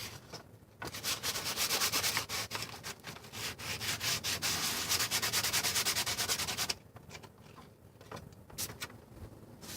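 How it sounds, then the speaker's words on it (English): A sanding block rubs back and forth over a chipped skateboard deck, a close, loud run of rapid rasping strokes for several seconds, then a pause and a few lighter scrubs. "we just gonna start getting the sanding going"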